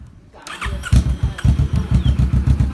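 A Kawasaki Vulcan 650S motorcycle engine cranks and fires up, settling into a loud, close, rhythmic thumping idle.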